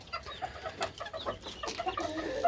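Serama bantam chickens, a trio of two hens and a rooster in a cage, give soft, quick clucks at close range, faint and steady over a quiet background.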